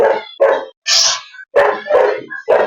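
Dogs barking and howling close by, loud and repeated in quick succession, a series of yelping barks broken by a drawn-out higher howl.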